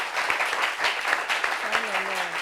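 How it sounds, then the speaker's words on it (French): A studio audience on a French television talk show applauds steadily in a dense, continuous patter of many hands for the whole stretch, fairly loud and close, with a faint voice briefly rising under the clapping near the end. "Applaudissements pour le monsieur."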